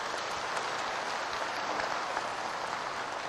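Sustained applause from an indoor audience at a religious sermon, a dense, even wash of many hands clapping at moderate distance for several seconds with no voices on top.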